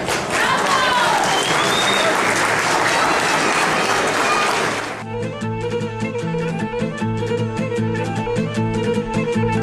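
Warm applause for young dancers at a tribute event fills the first five seconds, dense and loud from the audience, then gives way to music.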